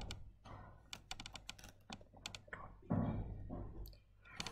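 Quick keystrokes on a computer keyboard as a file name is typed, a run of light, close plastic clicks in uneven bursts with a few heavier key thunks, all fairly quiet.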